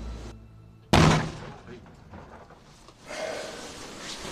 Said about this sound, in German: Ob die Ladung wohl detoniert?